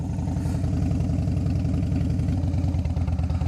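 A motorcycle engine ticks over at idle close by, a steady low pulsing throb with a fast even rhythm and light mechanical clatter, running alone without talk.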